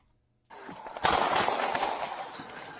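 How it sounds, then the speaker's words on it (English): Gunshots fired by police officers at a man, starting abruptly after half a second of silence, with a loud crack around one second and a sustained noisy burst that slowly fades. "You see them other couple of shots?"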